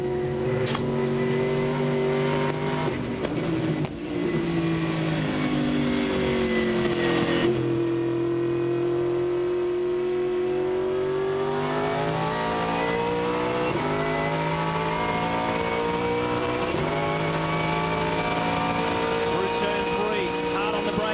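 A V8 Supercar at full throttle around Phillip Island, its engine note climbing through the gears toward top speed, with one brief dip as it shifts. Loud and close throughout, steady and unbroken, with commentary voiced over it.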